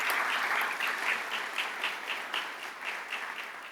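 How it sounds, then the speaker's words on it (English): Applause from the audience at a civic association annual meeting in Palm Beach, a steady crowd clapping that holds strong and then slowly thins toward the end. "if we could give them a round of applause too"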